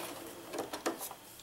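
Sewing machine putting a few short stitches into a quilt, a brief burst of mechanical whirring and clicking close by, faint and alone.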